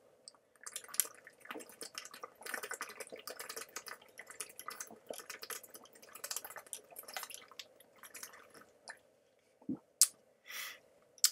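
Close, quiet gulping and wet swallowing as a man drinks water, with irregular liquid sloshes and small drips over a low hum, ending in a few louder splashy gulps.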